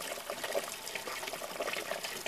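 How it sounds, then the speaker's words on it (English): Pumped water pouring into an aquaponics tank, a continuous bubbling trickle and splash filling the space at close range, with no speech. "the water's starting to fill up. It's coming from there, which is getting pumped from the other tank."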